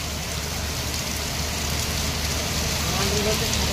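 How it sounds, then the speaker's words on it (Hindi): Heavy monsoon rain pours down in Bengaluru, a dense, steady hiss of drops hitting surfaces close to the listener, loud and unbroken, with a faint voice briefly audible beneath it. "वर्षा केते जोर हो आप देखेबी"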